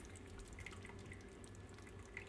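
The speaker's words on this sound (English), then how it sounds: "time to drain our pasta and dump it into this" Pasta water pouring out of a pasta insert as it is lifted to drain, a steady close splashing trickle of liquid falling into a pot or sink, continuous for a couple of seconds.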